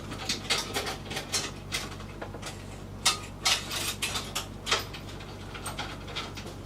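Metal keys on a keyring jingle and clink while a small flathead screwdriver on the ring is used, giving scattered light metallic taps and rattles in irregular bursts at close range, fairly quiet, with no talk.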